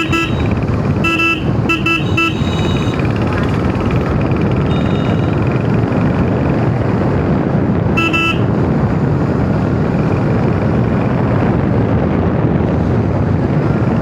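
A Royal Enfield motorcycle cruises along a village road, its engine a steady continuous drone under heavy wind rush, with a few brief horn toots near the start and another around eight seconds.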